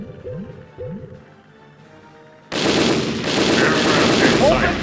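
Naval cannon fire in the Navyfield warship game: a heavy, sustained roar of gunfire bursts in loudly partway through, after a few quieter tonal sweeps and a synthetic voice calling commands.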